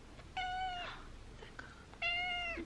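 A cat meows twice in a quiet indoor room, two clear drawn-out calls a little over a second apart, close and moderately loud.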